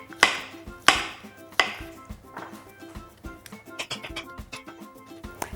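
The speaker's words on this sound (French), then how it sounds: "Je vais les émincer." A knife slices mushrooms on a cutting board in crisp, close chops, a few strong strokes at first followed by quicker, lighter taps, with no talking.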